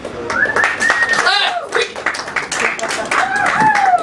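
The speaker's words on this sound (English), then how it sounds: "Please put your hands together" A comedy club audience applauds a comedian being welcomed to the stage, steady close clapping with a few whistles and cheers rising over it, and a voice talking through the applause.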